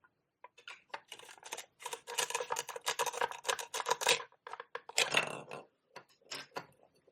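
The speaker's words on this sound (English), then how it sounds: "Next, we'll go with this watermelon and cut it." A toy watermelon being cut apart with a toy knife, heard as a close series of quiet clicks, taps and scraping contacts in irregular bursts, with no talking.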